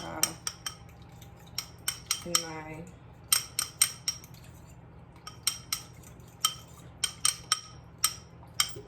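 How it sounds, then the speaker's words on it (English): A fork clinks sharply against a bowl in a quick irregular rhythm while stirring ingredients together, close and fairly quiet, with a brief scraping swirl partway through. "just use a fork and just stir it together"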